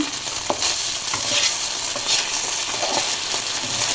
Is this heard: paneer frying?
yes